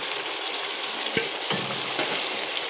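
Soybean chunks frying with chana dal curry in a pan give a steady close sizzle, with a few brief scrapes of stirring breaking through the hiss.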